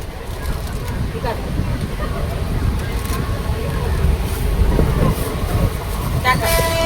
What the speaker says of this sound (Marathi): ट्रेनमध्ये काय चाललं आमचा.